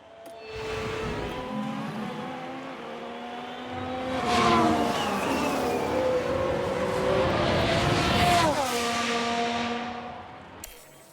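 Formula 1 cars in the F1 Manager 2022 game race past, engines droning and shifting through gears with a louder surge in the middle, steady moderate loudness without talk.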